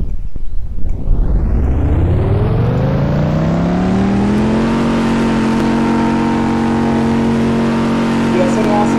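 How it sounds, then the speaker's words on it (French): BMW M5 engine in a Roblox racing game revs up steadily, its pitch climbing over several seconds and then holding at a loud, sustained high drone close to the listener. "Puis après, on a la BMW"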